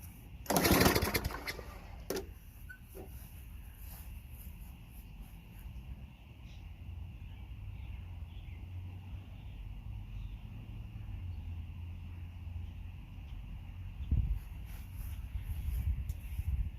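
Craftsman lawn mower with a Tecumseh 5.5 engine, left sitting for 10 years and with a leaking carburetor bowl gasket, idling in a faint, steady drone after a sharp clatter at the start.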